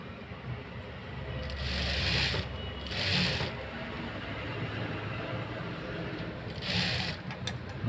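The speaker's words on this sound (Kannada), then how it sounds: "ಮತ್ತು ಶೋಲ್ಡರ್ ಲೂಪ್ನ ಹೊಲಿತಾನೆ ನಾನು ಕರೆಕ್ಟಾಗಿ ಜಾಯಿಂಟಲ್ಲಿ ಹಂಗೆ ಇಟ್ಕೊಂಡ್ಬಿಡಿ" A sewing machine stitches a blouse shoulder loop in a few short whirring mechanical bursts with a rattling, ratchety drive between pauses, close by, over a faint room background.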